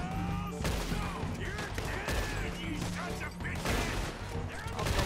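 Dense gunfire in Red Dead Redemption 2, rapid overlapping shots and crashes in a continuous fusillade, with shouting voices mixed into the battle.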